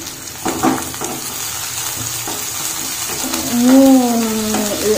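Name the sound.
mutton being mixed and fried in mustard oil in a pan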